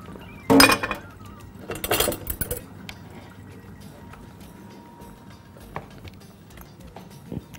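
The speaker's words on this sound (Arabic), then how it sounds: "واحط الميه نقلب كده اهو" Cornstarch, sugar and water stirred in a pot, with two loud clinks of a utensil against the metal near the start, followed by softer scraping and faint taps at close range; no talking.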